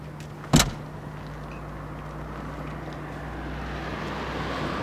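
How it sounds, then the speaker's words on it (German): A Trabant car door is shut once with a sharp, close thump, followed by a low steady hum of background engine or road noise and no speech. "Warte, die Türe zu."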